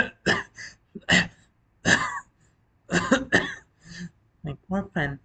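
A voice imitates a fit of harsh coughing, a series of separate bursts with short gaps, close and fairly loud, as part of a dramatic reading.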